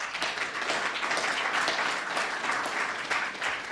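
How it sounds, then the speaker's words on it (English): A crowd at a political event applauds for an attorney, with a steady wash of many hands clapping at moderate volume throughout and no speech over it. "Round of applause for Thomas."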